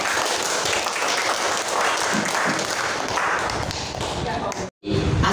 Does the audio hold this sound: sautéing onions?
no